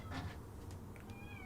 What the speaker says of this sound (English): Sorry if you can hear my if you can hear my cat meowing right now.